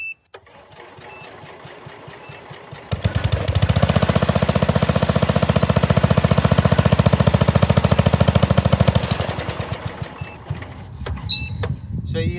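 Old tractor engine, run with the battery hooked up because it does not charge, cranks and catches, then runs with a loud, steady rapid chugging for several seconds before dropping back to a quieter, uneven idle.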